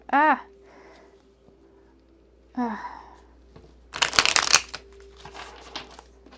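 Large, long tarot cards being shuffled by hand, with a burst of papery riffling and rustling in the middle, near and fairly loud, set between stretches of speech.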